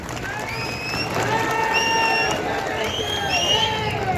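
Crowd applause and cheering at a BJP election rally in Hosur, a dense wash of clapping with shouts and whistles that holds steady and loud across the whole stretch.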